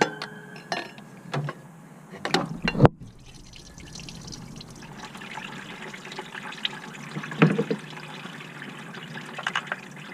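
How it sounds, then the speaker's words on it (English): Coolant spilling and dripping out of the thermostat housing on a 2014 Ford Fusion 2.5L four-cylinder, splashing bursts and drips against a quiet background, with a few sharp clanks of tools. "water spilling out from this one too."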